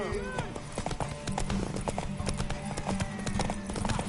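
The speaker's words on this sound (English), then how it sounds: "Want that horse, don't ya?" Rapid horse hooves clip-clop steadily up close in The Witcher 3: Wild Hunt, with faint voices and game sounds mixed in.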